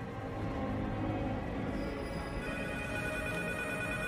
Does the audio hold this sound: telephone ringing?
yes